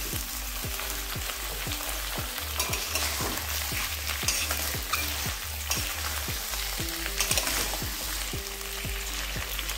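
Eggs frying in a hot pan give a constant crackling sizzle, with a spatula scraping and knocking against the pan in a quick repeating rhythm, close and alone without talk.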